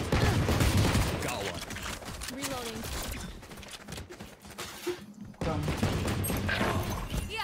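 Gunfire in the video game Valorant: bursts of rapid shots crackle at moderate volume, mixed under players' voices talking over the action.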